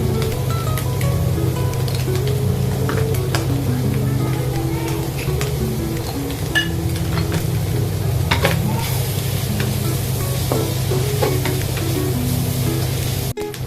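Pork stir-frying with light soy sauce, salt and aji in a pan, a loud steady sizzle with scattered spatula scrapes, over a constant low hum and a tonal drone.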